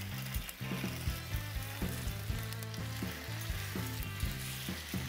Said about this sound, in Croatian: pa ih na laganoj vatri pržimo 5 minuta.